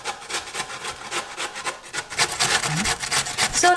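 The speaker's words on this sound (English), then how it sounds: "make sure you grate them quite well" Raw potatoes rubbed over a hand grater for Polish potato pancakes, a close, continuous rasping scrape with rhythmic strokes and no talking.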